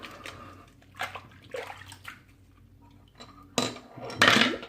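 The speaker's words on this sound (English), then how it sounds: "Oops, dropped the razor in the sink." A metal safety razor clatters into a sink, a sharp clink and rattle near the end following softer splashing and handling noises, close and unaccompanied by talk.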